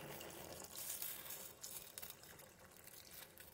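Hot water pours into a pot of rasmalai cooking on the stove, a soft continuous splashing hiss that stays faint and steady throughout.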